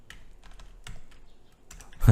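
Computer keyboard typing while entering code, a quick run of distinct key clicks in uneven bursts, close and fairly quiet, ending in a louder final clack.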